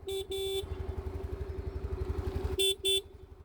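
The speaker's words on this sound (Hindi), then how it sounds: "एंड इसके बाद बात करते हैं हॉर्न की।" A TVS Jupiter scooter's single horn sounds two short honks at the start and two more near the end, loud and close, with the scooter's engine idling in a steady low putter between them.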